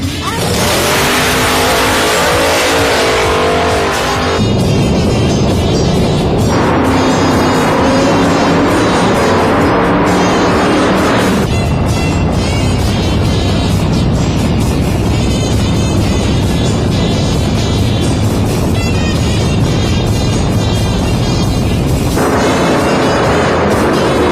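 Loud roaring hot rod engines race past up close, revving and howling with tire screech and tire smoke, the din continuous and overwhelming.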